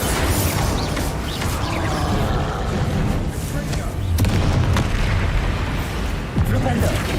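Heavy booming blasts from the Bombarda explosion spell in the Hogwarts Legacy video game, loud and continuous with sharp bursts near the middle, layered over rumbling battle noise.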